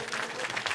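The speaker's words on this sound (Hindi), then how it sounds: "सभी अपने तो ताली बजाओ" Audience applause at a Shrimad Bhagwat Katha religious gathering, a steady dense clapping from a crowd, fairly loud and continuous throughout.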